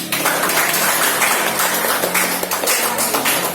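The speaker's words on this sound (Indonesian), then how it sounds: "Ya, beri aplaus dulu." An audience claps in a classroom-style setting, a dense steady patter of many hands filling the moment at close range, with no voices over it.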